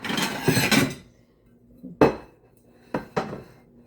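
Utensils clinking and scraping against dishes while plating smoked chicken leg quarters, in a few bursts, then two sharp clatters near the end, close by with quiet gaps between.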